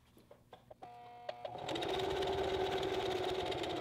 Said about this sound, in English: I have my sewing machine on a very, very slow setting